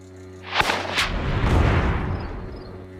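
A single sharp gunshot cracks, followed by a second report and a long rolling echo that slowly fades over a low hum.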